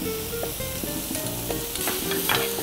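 Garlic and ginger sizzle steadily in a hot pan for a Bunny Chow curry, with a spoon scraping and stirring through the continuous frying hiss, fairly loud and close, no voices.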